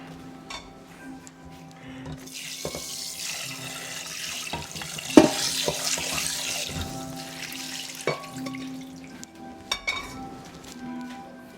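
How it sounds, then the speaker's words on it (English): Tap water runs into a cooking pot as it is rinsed in a kitchen sink, a steady splashing stream with occasional clinks and knocks of the pot against metal, fairly quiet and close. "Just rinse the pot out."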